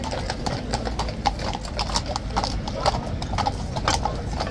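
Hooves of seven horses in blankets clip-clop on pavement at Horse Guards in London on a chilly day, a steady, close, overlapping rhythm of sharp knocks over low outdoor ambience.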